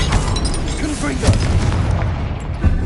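Confringo blasting spell in the Hogwarts Legacy video game, a dense booming explosion layered over a busy game mix with low rumbles, sustained loud throughout the short stretch.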